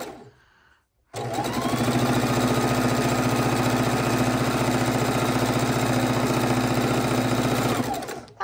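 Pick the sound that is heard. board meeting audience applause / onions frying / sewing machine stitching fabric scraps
sewing machine stitching fabric scraps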